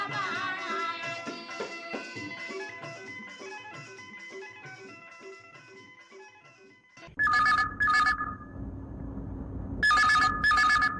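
A telephone rings for a Chhattisgarhi phone-in song request show, with repeated bright double-burst rings cutting in loud and close after a fading stretch of music.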